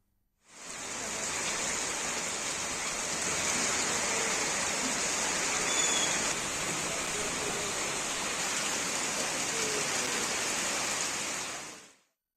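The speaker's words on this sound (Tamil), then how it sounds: "இதேபோல வந்தவாசி அருகே உள்ள கிராமங்களிலும் காற்றுடன் பலத்த மழை கொட்டியது." Heavy rain driven by strong wind pouring down over villages near Vandavasi in Tamil Nadu, a dense, steady roaring hiss that holds unbroken and loud for about eleven seconds before cutting off.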